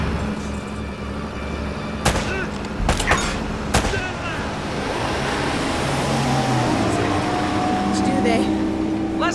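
Gunfire in the video game Uncharted: Drake's Fortune on PS3: a few sharp, loud shots ring out early and in the middle, then give way to a steady roar of wind or surf, with voices speaking now and then.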